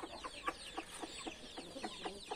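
A hen clucks in a quick series of soft, short calls, faint and fairly close, with no one speaking.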